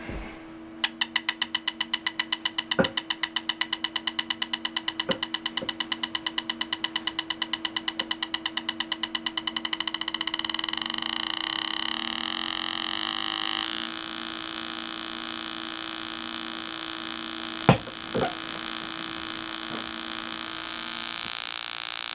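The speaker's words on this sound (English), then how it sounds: "A little bit of arcing between some of the switch contacts." Electrical arcing across switch contacts while an MSD MC4 ignition box fires a coil pack on test: a rapid train of sharp regular ticks gives way to a continuous buzzing hiss over a steady mains hum, with a few louder snaps near the end.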